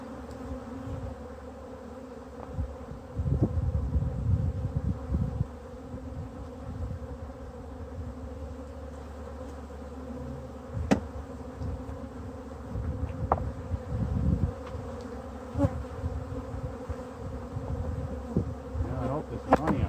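Honeybees buzz angrily as their hive is opened and torn apart, a steady loud droning swarm with occasional sharper passes close by and clunks from handling the hive.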